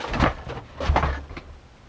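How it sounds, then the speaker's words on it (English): A house cat knocking objects off a surface indoors, giving two or three short, close thuds and knocks in quick succession with a faint clatter between them. "my cat is knocking down things"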